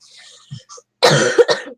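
A couple of faint breathy sounds, then one loud, harsh cough close up, with a second short burst trailing off.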